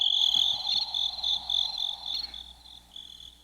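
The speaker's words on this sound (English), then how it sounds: "I can hear the crickets" Steady high-pitched cricket chirping pulses continuously in a quiet outdoor setting, fading slightly toward the end.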